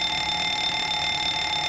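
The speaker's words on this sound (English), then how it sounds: "You'll hear the fire alarm test here in just a second." An aircraft cockpit fire warning test produces a steady, continuous electronic alarm tone, loud and unbroken throughout, ending abruptly, with no talking.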